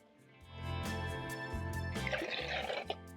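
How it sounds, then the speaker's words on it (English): Water pours from a cup into a pot of rice, a short rising gush that swells after a quiet start and ends with a few splashes. "I'm going to add in 2 cups of water"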